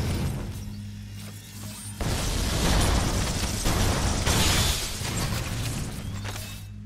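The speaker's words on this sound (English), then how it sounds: "Explosion from the sentinels crashing." Sentinels crashing and exploding in Halo: Combat Evolved on the Maw level, with loud bursts of blast noise and crashing debris over low mechanical game hum, no talking.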